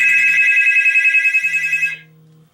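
A cell phone rings with a loud, steady electronic ringtone for about two seconds before cutting off, with a low hum underneath, while an incoming call is placed to it from another line.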